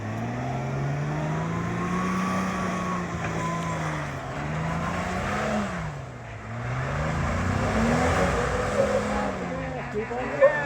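A Jeep TJ's engine drones and surges as it climbs a steep off-road hill, the revs rising and falling in waves, with people talking and calling out over it.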